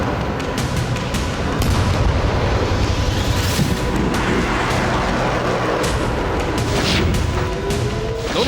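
Rocket attack explosions in Nahariya, heard as a dense roar of booms and rumbling blasts that continues throughout at a moderate level, with no voices.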